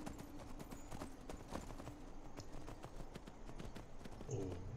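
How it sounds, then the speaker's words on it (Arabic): Horse hooves clip-clop in a steady, continuous rhythm while riding on horseback through dark, overcast weather in the Skyrim video game, fairly close and alone without talk. "بطلع على الحصان تبعي"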